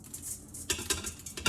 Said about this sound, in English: just gonna go ahead and put the rice into the broth here, or into the pot